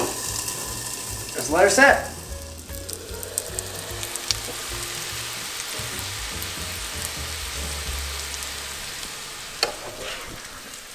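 Food frying in butter in a covered pan for a trout catch-and-cook breakfast, a steady soft sizzle running throughout with brief louder crackles and someone speaking briefly over it.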